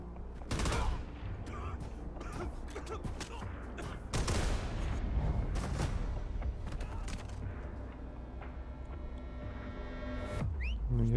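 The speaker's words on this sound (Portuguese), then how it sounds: "Ninguém escutou os tiros." Gunfire in Call of Duty: Modern Warfare, sharp repeated shots and bursts from several weapons in irregular clusters, some loud and close, others quieter, over steady game ambience.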